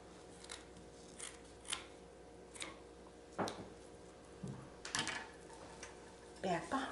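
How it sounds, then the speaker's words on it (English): Scissors snip through burlap ribbon on a birdhouse wreath, several quiet, sharp cuts spaced irregularly, close to the mic with some handling noise and a speaking voice in between. "I'm going to trim off a little bit of this so that I can just tuck it"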